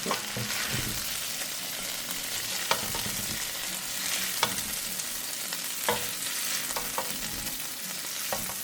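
Shrimp fry in a pan with oil for Chinese-style shrimp fried rice, a continuous close sizzle with scattered utensil taps and scrapes as the pieces are turned.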